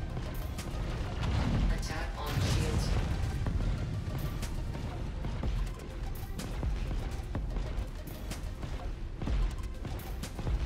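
Turret shooting in Star Citizen during the Siege of Orison, a dense stream of gunfire and heavy booming impacts rolling on for the full span, loud and continuous, with voices talking over parts of it.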